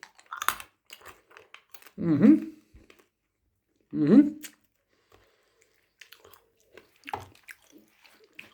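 Crunchy dried jujube being bitten and chewed, with two loud, distinct crunches a couple of seconds apart and fainter clicks and crackles around them.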